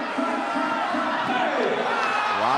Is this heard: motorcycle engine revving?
no